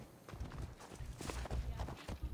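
Horse hooves clopping at a walk in Assassin's Creed Odyssey, a steady run of close, soft repeated thuds over a low game ambience.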